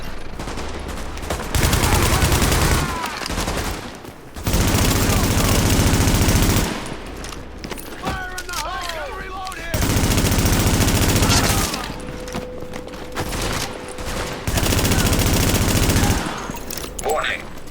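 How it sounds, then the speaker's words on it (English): Gunfire in Tom Clancy's The Division, with loud bursts of automatic weapon fire recurring in several sustained volleys separated by short quieter gaps, with faint game voices between them. "Warning. Supplies taking fire."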